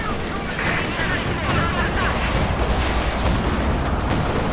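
Panzerwerfer rocket artillery firing in a Company of Heroes 2 battle, a dense rumbling barrage of booms and crackling launches running continuously at steady loudness with faint talk underneath.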